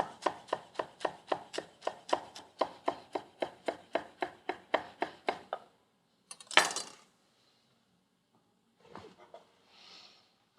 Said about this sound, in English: We'll cut this mint into very thin ribbons.